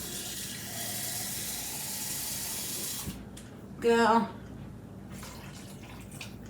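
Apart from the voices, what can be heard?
water poured into chicken soup pot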